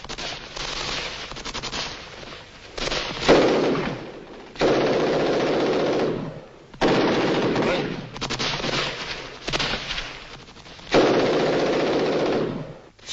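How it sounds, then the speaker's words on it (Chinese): Sustained bursts of partisan machine-gun fire in an Albanian war drama battle, loud and dense, coming in several long volleys separated by brief pauses, with faint voices underneath. "山顶上有一挺游击队的机枪"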